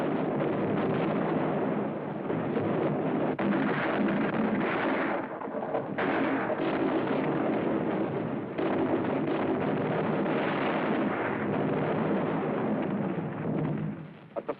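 Heavy naval gunfire against Chinese positions near Shanghai, a continuous muffled rumble of artillery blasts and bursts from an old film soundtrack, loud and sustained for the whole stretch.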